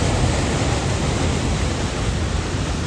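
Water pours out in a continuous broadband rush near the Varadayani Mata temple in Raigad, misty surroundings, heard close and loud without break.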